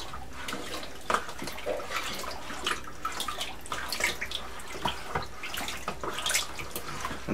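Fruit wine mixture with pectolase being stirred in a brewing vessel, giving a steady wet swishing and sloshing with small splashy accents throughout, close and moderately loud, with no talking.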